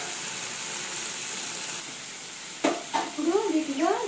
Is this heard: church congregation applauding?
no